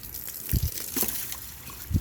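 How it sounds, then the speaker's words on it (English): Water splashes over car battery terminals during a rinse after baking soda neutralizing, coming as two short close gushes, one near the middle and one at the end, over a quiet trickle. "And then I'm gonna rinse it off."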